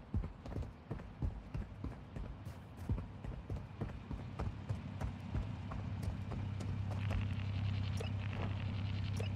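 Donkey hooves clip-clopping in the Warzone Mobile video game, a series of close, distinct hoof knocks in uneven rhythm that fade into a steady engine-like hum.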